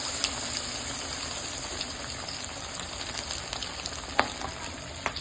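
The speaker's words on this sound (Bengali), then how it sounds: "প্যানে তেল নিয়ে এবার ছেড়ে দিলাম ফ্রাই করার জন্য" Batter-dipped chicken lollipop drumsticks fry in oil in a pan, giving a steady close sizzle and crackle throughout with a few sharper pops.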